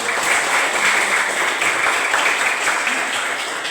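Students in a classroom burst into loud, dense applause, a continuous close-up roar of clapping hands that holds steady without pause.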